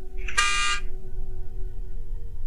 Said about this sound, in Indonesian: Suara klakson mobil membuat Ardi berjengit kaget